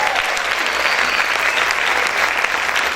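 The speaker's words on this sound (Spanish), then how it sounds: "¿Cuántos pueden aplaudir fuerte al Señor?" Loud, vigorous applause from a church congregation clapping for the Lord, a thick continuous patter of many hands at full strength from start to finish, alone without speech.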